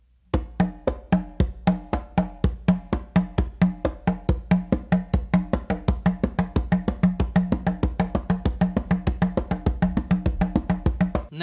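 Congas are played in a rapid, even stream of palm and finger strokes, dense syncopated hits filling every subdivision, close and dry with no talking.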